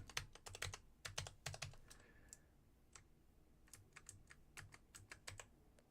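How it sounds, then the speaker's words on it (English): Close, crisp typing on a computer keyboard during work in Daz Studio: bursts of rapid keystrokes, a brief pause, then lighter scattered taps, with no talking. "all I have to do is type brightness"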